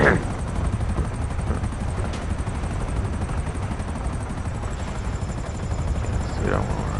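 Helicopter in Grand Theft Auto Online gives a steady rotor and engine drone throughout, with a couple of brief sharp game effects over the continuous hum.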